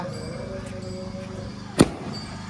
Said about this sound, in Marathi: दद्दूनी लावलेला आहे फटाका.